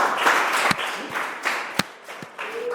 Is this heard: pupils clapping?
yes